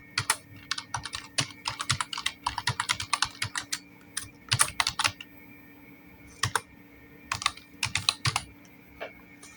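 Fast, uneven bursts of clicks from typing on a computer keyboard, close and fairly quiet, with short pauses between runs of keystrokes.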